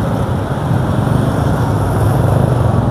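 Many motorcycles pass along a busy city street, making a loud, dense, continuous engine roar with no break and no clear single pass-by.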